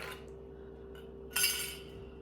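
Cutlery clinks as someone rummages for a fork in a home kitchen while preparing a chicken recipe, a few light metallic taps, then one louder jangling burst of utensils, close and alone without speech.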